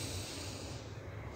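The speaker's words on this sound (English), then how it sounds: "Take a deep breath in." A slow, deep inhalation during a guided relaxation exercise, a steady airy hiss close to the microphone lasting over a second with no talking.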